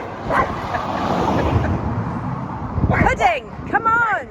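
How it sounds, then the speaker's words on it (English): A dog on Santorini gives a few short, sharp barks near the end, close by, over a background of outdoor noise and passing traffic. "She's barking at that."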